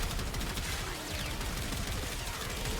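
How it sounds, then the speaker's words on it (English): Dense, continuous barrage of rapid explosive bursts and crackling blasts from a Warframe primary weapon's alternate fire mode, loud and unbroken throughout. "Its alternate fire mode throws these weird explosions"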